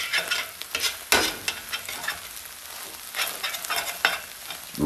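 Ramen noodles stirred in a hot pan with an egg frying alongside, a continuous close sizzle broken by scraping stirs and a few sharper utensil knocks.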